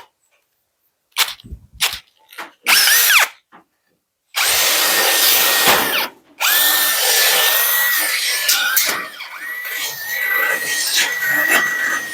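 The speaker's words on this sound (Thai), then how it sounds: "เจาะนำแบบนี้ก่อน พอเจาะนำแล้วก็เอาสว่าน อันนี้เจาะตามได้เลย" A power drill starts in short bursts, then runs loud and steady for several seconds as it bores a hole for a door lock, its whine holding a constant pitch.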